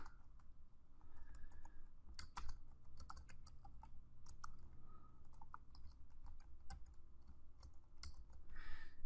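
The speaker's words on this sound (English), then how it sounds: "we will type a quick command here" Quick bursts of keystrokes on a computer keyboard as a short Python command is entered, close and clear over a low steady hum, with no talking.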